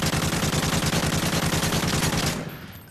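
AK-47 hipfire from Modern Warfare 3 rattles out as a rapid, loud burst of evenly spaced automatic gunshots that runs for over two seconds before cutting off and leaving a brief decaying tail.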